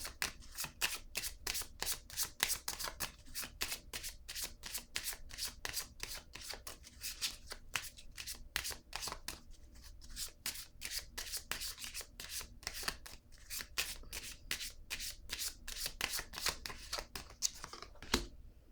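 Tarot cards are shuffled by hand in quick, crisp riffling bursts that repeat steadily and close up for the whole stretch, with no speech.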